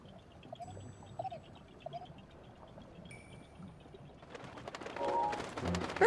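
Pigeons coo softly in The Legend of Zelda: Breath of the Wild, low repeated calls on a mountain near a fire area, faint beneath ambient game sound that swells toward the end.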